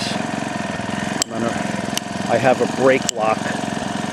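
The small gas engine of a motorized side-by-side tandem bicycle runs with a loud, steady buzzing putter. It stays close throughout under a man's speech, with a few brief dips in the drone.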